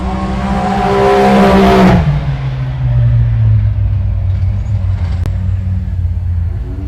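Side-by-side off-road race cars roar past at an SGORA off-road race, engines loud and close, rising to a peak then fading into a steady rumbling drone as they move away.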